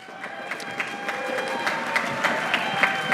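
A school band concert audience cheers and applauds for students, a steady wash of clapping with scattered shouts building slightly across the span, fairly close and loud.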